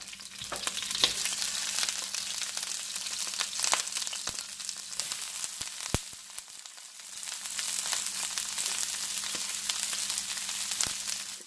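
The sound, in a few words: broccoli sizzling as it is added to the pan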